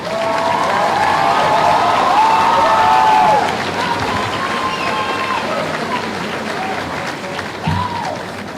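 A graduation crowd applauds and cheers for the seniors of the class of 2025, loud and dense at first, then easing slightly as whistles and shouts rise over the steady clapping.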